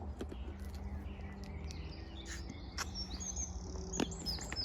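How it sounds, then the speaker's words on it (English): Several birds tweet and chirp in a York wetland with short sharp calls over a steady hum of insects or crickets, at moderate distance and without speech. "Can you hear the birds, by the way, tweeting?"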